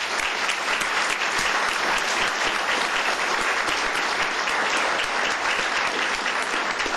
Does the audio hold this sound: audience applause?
yes